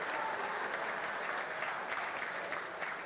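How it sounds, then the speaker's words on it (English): Audience applause at a boxing event's introductions in a large room, a steady dense wash of clapping from many hands, moderately distant and even throughout. "Everybody give Dan a round of applause."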